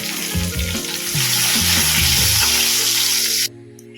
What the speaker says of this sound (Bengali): দুটো তেজপাতা দিলাম